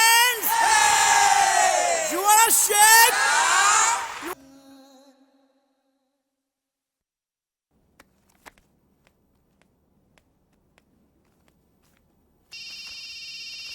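Loud excited voices and cheering give way to near silence with a few faint clicks, then an electronic phone ring starts abruptly at the end.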